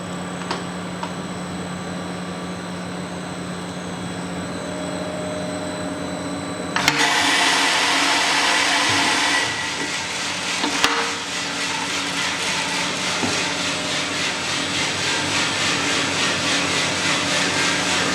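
A large 2 kg batch coffee roaster runs its drum on very low gas, giving a loud, continuous mechanical drone that turns rougher and brighter partway through and then holds steady to the end.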